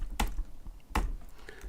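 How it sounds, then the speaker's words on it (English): Two crisp keystroke bursts on a computer keyboard, close and fairly quiet, spaced under a second apart as a word is typed, with no voices. "I'm going to type the word science"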